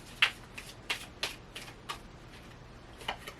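Tarot cards shuffled and pulled from the deck during a reading: about half a dozen crisp snapping flicks spaced unevenly, close and fairly clear, with no voices.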